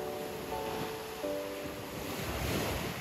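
Ocean waves crash continuously on a beach during surfcasting, a loud steady roar of surf with wind noise buffeting the microphone and a faint tonal hum beneath.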